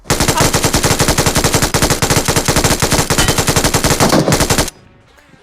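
Sustained rapid automatic fire from an MG3 machine gun in a battle royale video game, a loud continuous burst of dense rattling shots lasting several seconds before cutting off abruptly.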